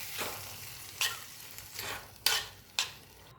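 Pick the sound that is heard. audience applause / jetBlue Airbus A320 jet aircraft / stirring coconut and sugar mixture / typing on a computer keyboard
stirring coconut and sugar mixture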